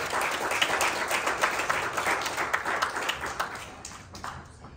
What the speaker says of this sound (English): Somebody give a hand clap of praise and appreciation.